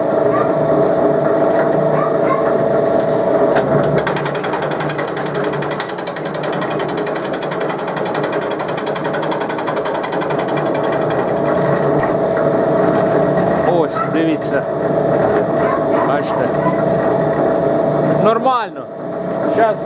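Branch chopper built from a chaff cutter chopping raw branches about 2 cm thick, a loud continuous mechanical clatter and drone with intermittent chopping, and talking over it.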